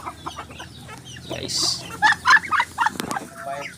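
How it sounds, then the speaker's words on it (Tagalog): Native chickens clucking in a short cluster of sharp calls near a farmyard, mixed with someone speaking over them. "Magdadagip na tayo ng isa dyan para pang sabaw na native natin na manok ngayon na araw na to"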